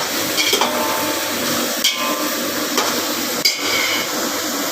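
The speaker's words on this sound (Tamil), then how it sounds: "இப்போ கொஞ்சம் டொமேட்டோஸையும் ஆட் பண்ணி நல்லா வதக்கிக்கணும் ஃப்ரெண்ட்ஸ்" Tomatoes sautéing in a pan for biriyani give a loud continuous sizzle, broken by three or four sharp knocks of a spoon stirring against the pan.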